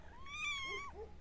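A single drawn-out cat meow with a rising then falling tone, followed by two short softer chirps, close and fairly quiet over a low background hum.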